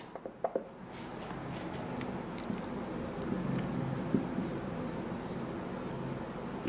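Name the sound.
writing a math solution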